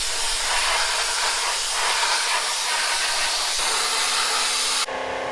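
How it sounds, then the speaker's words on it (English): An air compressor runs loudly with a harsh, steady hiss that fills the space, then shifts pitch abruptly near the end. "The air compressor's gonna kick on, so it's gonna get noisy."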